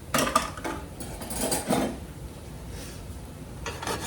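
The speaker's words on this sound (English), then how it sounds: "And mixing up, that's my cornbread mix, 2 eggs, a half a cup of buttermilk." Cornbread mix being stirred with eggs and buttermilk in a bowl, a few scraping, clinking strokes of a utensil against the dish in bursts, then quieter rubbing, close by with no talk.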